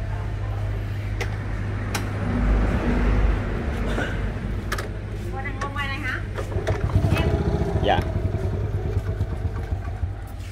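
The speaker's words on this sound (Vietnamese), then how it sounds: "Cho anh em nghe máy chơi anh em." A 1978 Honda Cub motorcycle engine idles steadily nearby with a low, constant rumble, while people talk and move around it.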